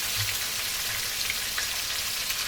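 Fish frying in hot oil in a hex-clad wok, a steady dense sizzle and crackle that stays constant from start to finish with no talk.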